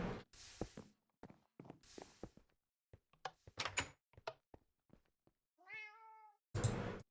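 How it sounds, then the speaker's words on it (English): A Minecraft cat in the Agrarian Skies modpack gives a single clear, rising-and-falling meow near the end, set among scattered clicks, footsteps and block sounds. "Kitty cat?"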